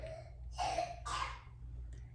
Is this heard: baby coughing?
yes